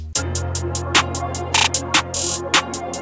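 A trap beat with a crisp four-step hi-hat roll: rapid clustered ticks and a brief sustained hiss sit over a steady low bass note.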